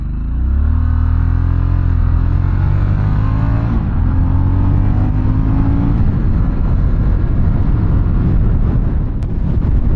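A 2024 Harley-Davidson Sportster S motorcycle accelerating hard, loud engine tone climbing through gears under heavy wind rush that builds into a steady roar.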